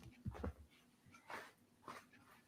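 Dogs whine and whimper softly while waiting for treats indoors, with short breathy yips in a few bursts over a couple of seconds, faint and close.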